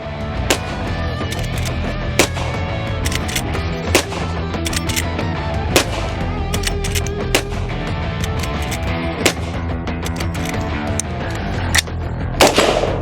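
A Henry .45 Long Colt rifle fires round after round at metal targets outdoors, sharp loud cracks repeating at irregular intervals over a constant background.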